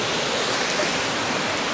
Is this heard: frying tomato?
no